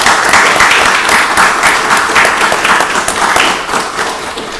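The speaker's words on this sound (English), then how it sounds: "Let's give Commissioner Williams a round of applause." A crowd applauds at a Rockdale County Board of Commissioners meeting, with steady dense clapping that stays loud and close for several seconds before easing slightly toward the end.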